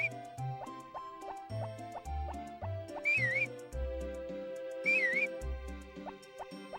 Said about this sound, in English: I'm trying to whistle for my horse.